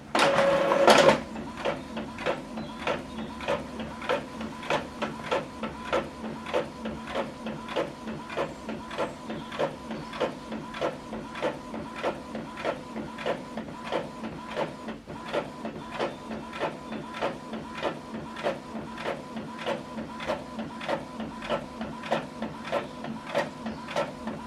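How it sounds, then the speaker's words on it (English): An Epson printer running non-genuine ink cartridges prints a document, its print head shuttling in a steady, rapid mechanical rhythm of clicks and whirs, nearby and continuous, with a louder burst at the start and no talking. "So this document is printing out."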